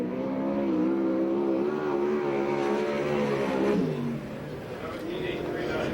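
A USAC/CRA sprint car roars around the Perris track on a qualifying lap, its engine note rising and falling loudly as it passes, with a public-address announcer talking over it.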